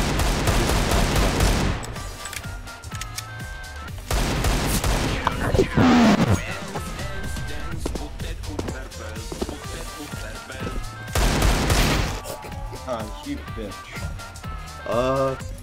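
Gunfire in Counter-Strike: Global Offensive comes in several loud, rapid bursts separated by quieter gameplay, while players talk over much of the action.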